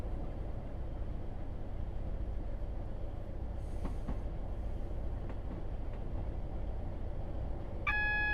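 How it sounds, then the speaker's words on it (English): A steady low rumble of an old British diesel train in Train Sim World 3, running continuously with faint clicks and a brief high tone near the end, no voices. "So good seeing all that old school British diesel there"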